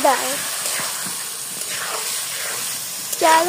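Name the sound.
rice and lentils frying in a pan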